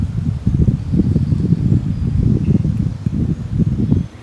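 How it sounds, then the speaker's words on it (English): Gusts of wind buffet the microphone beside a fishing lake, a continuous low, fluttering rumble that rises and falls without voices. "Wind just got up there right quick."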